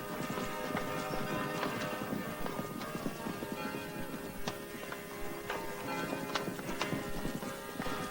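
Mustang horses' hooves clip-clop in a quick, uneven patter of sharp strikes, moderately close, with a soft background bed throughout.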